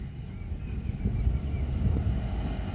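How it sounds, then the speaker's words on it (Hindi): Soil-hauling dumper trucks rumble past on a road near expressway construction, a low heavy engine roar swelling in the middle and fading slightly, with some wind noise. "मिट्टी के डंपर जा रहे हैं"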